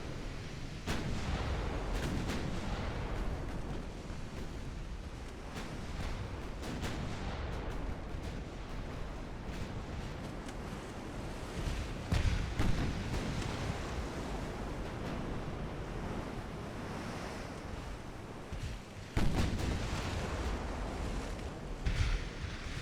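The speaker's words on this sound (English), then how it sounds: "We were firing at the heavy cruiser, but we caught whoever was behind it." Naval artillery fire from warships in the Ultimate Admiral: Dreadnoughts naval battle game rumbles in heavy, dull booms over a constant wash of sea and wind noise, with a few sharper blasts standing out and no talking.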